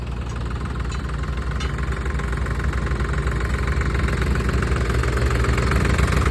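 A New Holland tractor engine fitted with a turbo idles steadily, a continuous low rumble with slight knocking vibration, close and loud throughout.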